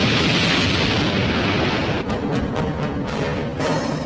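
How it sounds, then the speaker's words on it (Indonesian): A dense, roaring rumble of heavy blasts fills the clip, with several sharp cracks breaking through toward the end, like cannon fire. "tapi ia mendengar suara meriam."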